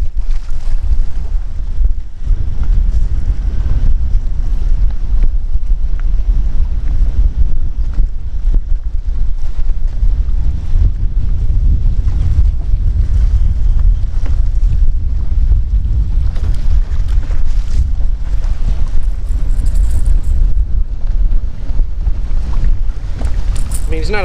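Strong wind buffets the microphone on a fishing boat during spring bass fishing, a loud continuous low roar and rumble of gusts with water noise throughout, steady for the whole stretch.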